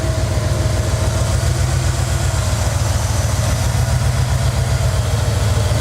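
Steady, loud idle of a 1994 Dodge truck engine, a constant low rumble with even pulsing and no change in pitch, heard up close and alone.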